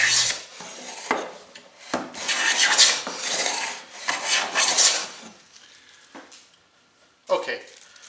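Repeated rasping strokes of a tuned bench plane scraping across wood, each pass a rough shearing hiss with short pauses between.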